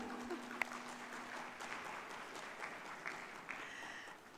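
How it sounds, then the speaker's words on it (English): An awards ceremony audience applauds, soft and distant, a steady patter of many hands clapping throughout with no voices over it. "Why don't we give them a round of applause"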